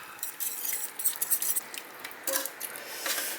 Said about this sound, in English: So now what we have to do, just whisk it.